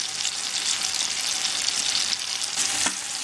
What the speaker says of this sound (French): Je les mets à cuire dans ce beurre et je les retourne régulièrement de manière à ce qu'elles dorent sur toutes les faces.